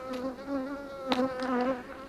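Honey bees buzzing at an apiary hive during a lime-blossom honey flow: a close, continuous droning hum with wavering pitch and a few louder passes of individual bees, no voices.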